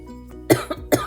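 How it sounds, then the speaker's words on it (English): Someone coughs sharply three times in quick succession, close and fairly loud, the first and last bursts strongest, while applying makeup with a flat stippling brush. "that one made me cough"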